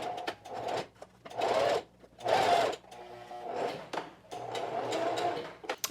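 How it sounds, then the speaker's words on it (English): Sewing machine stitching across the end of a t-shirt neckband in short bursts, the close motor whir starting and stopping several times with brief pauses and soft handling clunks between runs. "Now I'm going to sew across this end."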